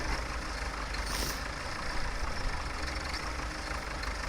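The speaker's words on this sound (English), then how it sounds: "Stop that tractor there, that will do." A tractor in Farming Simulator 17, set in 1960, idles with a low, steady diesel rumble, broken once early by a brief hiss like released air.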